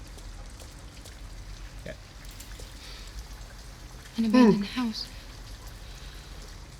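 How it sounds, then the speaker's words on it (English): A soft, steady hiss of rain falls outside an abandoned house in the video game Detroit: Become Human. The patter runs under quiet talk, with a short burst of speech in the middle. "At least we'd be out of the rain."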